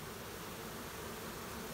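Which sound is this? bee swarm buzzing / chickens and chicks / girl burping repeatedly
bee swarm buzzing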